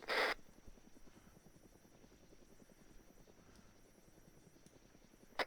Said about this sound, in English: Helicopter noises.